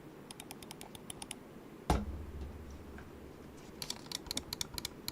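Computer keyboard keys clicking in quick bursts of light taps, close and fairly faint, with a short thump partway through and a low hum beneath; no one speaks.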